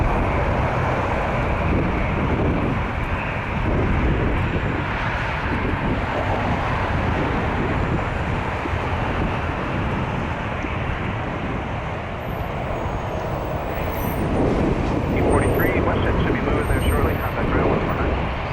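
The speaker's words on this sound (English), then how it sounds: "Air Canada 595 to Houston, A220 300." An Air Canada Airbus A220-300 bound for Houston at Toronto Pearson airport gives a steady, loud jet roar that holds throughout with wind buffeting the microphone, and no talk is heard.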